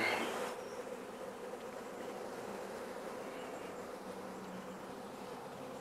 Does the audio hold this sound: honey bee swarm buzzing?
yes